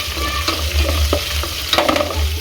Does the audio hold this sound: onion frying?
yes